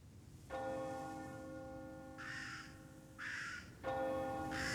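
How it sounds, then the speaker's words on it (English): A deep church bell tolls slowly, striking twelve, each ringing stroke swelling and lingering into the next, heard alone at a distance. "the bell struck 12"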